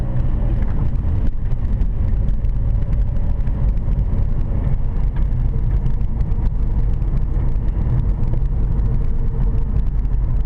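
A car accelerates steadily with a continuous low engine drone and road and wind rumble, driving straight across an intersection while a learner practises for a driving test; no voices are heard.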